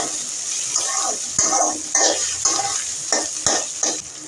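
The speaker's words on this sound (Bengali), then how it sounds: "মশলাটা আমার একটু কষানো হয়ে গেছে" Garlic, ginger and cumin spice paste frying in a pan for a fish curry with pointed gourd and potato, a steady sizzle broken by repeated scraping stirs and a few sharp utensil knocks.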